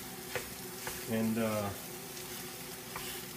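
Sausage browning in a pan for sausage gravy, a soft steady sizzle with occasional stirring scrapes, briefly under a spoken voice.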